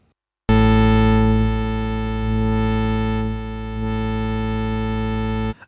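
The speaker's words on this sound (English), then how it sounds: "Let's listen to a low-pass filter on the sound we have created." Z3TA 2 software synthesizer holding one sustained buzzy tone through a low-pass filter, its brightness slowly sweeping down and back up, steady and loud for about five seconds before cutting off; no speech.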